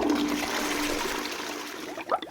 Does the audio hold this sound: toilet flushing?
yes